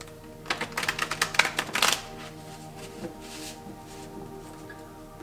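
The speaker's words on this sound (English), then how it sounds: "My new cards I always shuffle more harder" A short burst of crisp, rapid riffling as a deck of new tarot cards is shuffled hard, a quick flurry of card flicks lasting about a second and a half over a quiet room, followed by soft handling.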